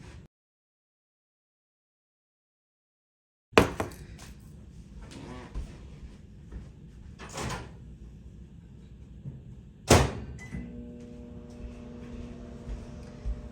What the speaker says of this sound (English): Put them in the microwave for 30 seconds.